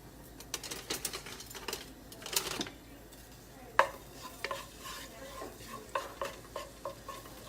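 Minced garlic frying in olive oil in a hot pan, a soft sizzle under repeated spoon scrapes and clinks against the pan, quiet and close with no talking.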